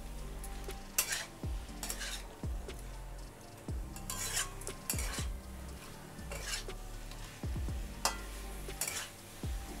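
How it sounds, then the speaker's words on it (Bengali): Soybean curry mixture is stirred in a pan: a spoon scrapes and knocks against the metal in repeated strokes about every second, close and clear, over a faint sizzle. "ভালো করে মিশিয়ে নিচ্ছি।"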